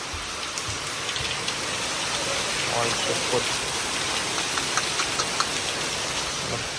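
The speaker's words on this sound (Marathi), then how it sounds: "लईच पाऊस पडायला लागला आहे" Steady heavy monsoon rain hisses across a broad band in Baramati, with a low engine idling beneath and brief indistinct voices in the background.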